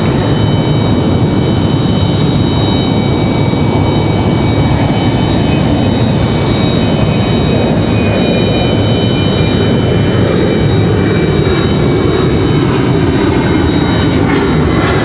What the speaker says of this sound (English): Southwest doing a go around